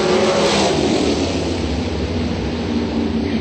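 Dragster race cars run down the strip at the Race Tech and American Race Cars drag race, giving off a loud, steady, broadband roar that fades slightly toward the end.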